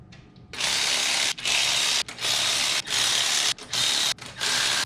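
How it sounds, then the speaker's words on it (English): A ratchet drives spark plugs into a 1948 Studebaker engine, sounding as close, loud bursts of rapid clicking. About six runs come in an uneven rhythm, split by short pauses, with no talk. "Put some spark plugs back in."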